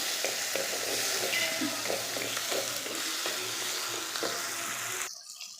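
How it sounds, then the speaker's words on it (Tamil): Tomatoes sautéing in a pan for a village-style country chicken curry, a continuous moderate sizzle with irregular stirring scrapes, cutting off abruptly near the end. "அதையும் இதிலே சேர்த்துட்டு நல்லா வணக்கிக்கலாம்"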